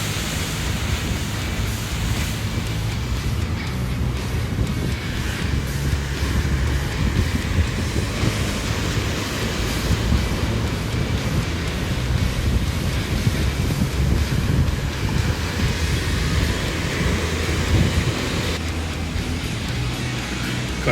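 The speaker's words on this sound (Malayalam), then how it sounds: "ഒരു രക്ഷയില്ലാത്ത തിരകൾ വരുന്നത്." Rough sea waves surge and crash continuously onto a shore, mixed with strong wind buffeting the microphone in a steady, loud roar with no break.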